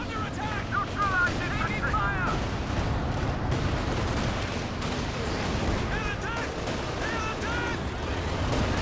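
A Land Mattress rocket barrage in Company of Heroes 2 produces a rumbling volley of rocket launches and explosions alongside dense battle noise, with a voice talking over the action.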